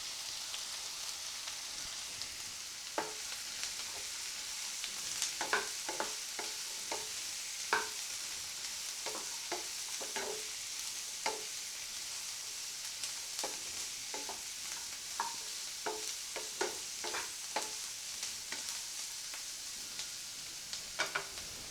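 Sliced big onion and cut bitter gourd sautéing in a pan for carrot and bitter gourd poriyal, with a steady soft sizzle broken by repeated scraping stir clicks from a spoon, close and unaccompanied by speech.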